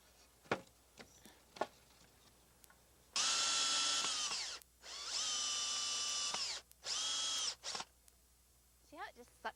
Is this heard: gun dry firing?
no